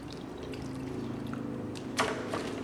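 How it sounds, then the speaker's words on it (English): A little water poured into a container of Vasari Veneziano dry-mix plaster, a faint soft trickle over a low steady hum, with a slightly louder splash near the end. "Pour a little bit of water in there."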